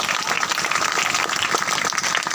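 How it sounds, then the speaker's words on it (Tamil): A church congregation claps continuously through a short stretch. The hand claps are steady and dense, with a faint voice in the background. "கைத்தட்டி இயேசுக்கு நன்றி சொல்லுங்கள்."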